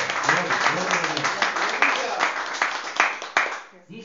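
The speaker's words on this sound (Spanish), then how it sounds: "Dale un aplauso fuerte al Señor." Church congregation at a Bible study applauds loudly, a dense burst of clapping with voices talking and calling out over it before it fades near the end.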